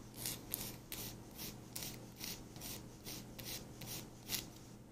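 A nail file rasps against a stiletto-shaped press-on nail in quick, even back-and-forth strokes, about a dozen crisp scrapes close up with no talking.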